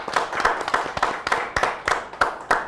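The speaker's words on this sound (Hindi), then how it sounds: "हमारे सेट पे जितने लोग हैं वो भी एक दफा जोरदार तालियां बजाएं इस बात पे" Studio crew on the set of a morning talk show clapping, a loose scatter of sharp individual claps from several people that keeps going unevenly throughout with no voices.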